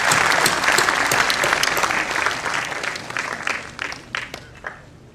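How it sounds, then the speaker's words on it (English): Audience applause for teachers at a speech on narcotic drugs at JNTU, a dense, loud burst of many hands clapping that gradually thins and fades over about five seconds. "let us give a big round of applause to all the teachers who are present here"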